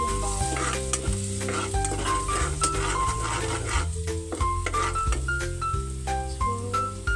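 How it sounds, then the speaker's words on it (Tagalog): Garlic toasting and frying in a pan gives a steady, close sizzle with stirring, running the whole time beneath prominent background music. "Sarap kasi na-toast yung bawang."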